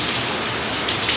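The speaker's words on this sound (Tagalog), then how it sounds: "Umuulan ngayon." Rain falls steadily during a stormy day as fish and eggplant are grilled, a close, dense hiss of drops on a surface with no talk.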